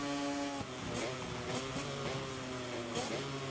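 A MotoGP racing motorcycle engine in the MotoGP 24 video game, Fabio Quartararo's GP25, droning steadily at high revs with pitch shifts as it goes through the gears, loud and continuous throughout.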